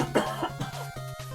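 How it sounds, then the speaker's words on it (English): A person coughs, a few rough bursts close up with no speech around them, over a low steady hum. "I don't know why I'm coughing."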